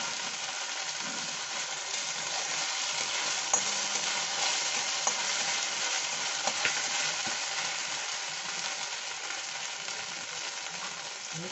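Onion and capsicum, cut into large square pieces, fry in a hot pan for chilli soya. A steady broadband sizzle carries throughout with occasional stirring clicks. No one speaks.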